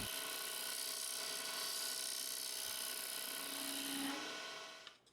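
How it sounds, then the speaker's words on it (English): A small round carbide scraper cuts a spinning maple and mahogany box on a wood lathe, a steady high whining rasp that holds for about four seconds, then fades as the tool lifts away. "I change to a small round carbide scraper that allows me to work with a lot of precision"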